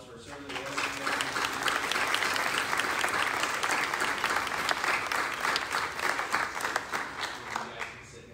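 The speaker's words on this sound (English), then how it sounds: "I want to just give them a round of applause for serving the rest of the day." A church congregation applauds returning mission trip members during a full service, steady sustained clapping from a crowd that holds evenly for several seconds.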